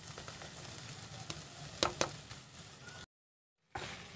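Macaroni with capsicum, ground coriander and spices stirred in a frying pan, a continuous soft sizzle with a few scraping strokes of the spoon, then a brief cut to silence before the sizzle returns.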